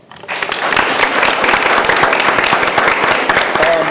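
A school board of education meeting gives a student a round of applause: dense, loud clapping from many people that starts abruptly and then holds steady, with no speech over it.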